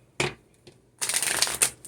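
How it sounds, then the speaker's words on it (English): Tarot cards are riffled and shuffled by hand at close range: a quick short burst, a faint flick, then a longer, louder riffle. "These cards don't want to shuffle for me."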